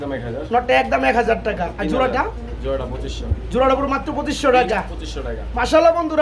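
Pigeons cooing in low, repeated murmurs mixed with people talking nearby, the voices and coos overlapping throughout.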